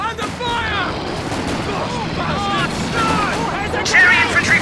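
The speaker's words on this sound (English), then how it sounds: "Under fire!" Gunfire and battlefield clamor in Company of Heroes 2, a dense wash of shots and explosions mixed with shouted unit voice lines throughout, loud and continuous.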